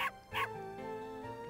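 A dog in The Legend of Dragoon gives two short bow-wow barks with a whimpering tail, game music playing beneath.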